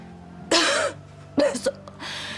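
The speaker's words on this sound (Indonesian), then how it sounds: "Saya perhatikan semakin hari batuk kamu semakin parah" Two or three rough, raspy coughs close by, separated by short pauses, with a brief throat-clearing sound in between.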